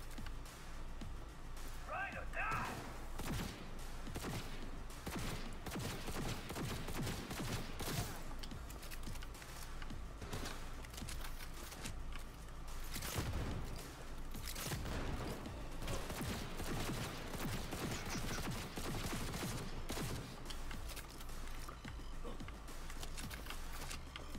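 Precision rifle fire in Cyberpunk 2077 cracks out repeatedly in quick bursts throughout, some shots sharp and close, mixed with other combat noise while a person talks over it.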